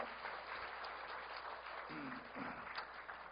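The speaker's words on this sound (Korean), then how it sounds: "우리 박수로 한번 하겠습니다" Church congregation clapping in welcome, a dense but fairly distant and faint patter of many hands, with a couple of short voices breaking through midway.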